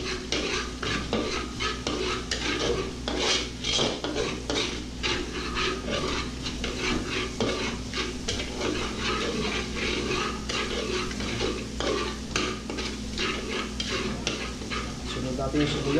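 Garlic frying in a pan for crab asado, a dense continuous sizzle with constant rapid stirring and scraping of a utensil against the pan, close and steady, with faint talk now and then.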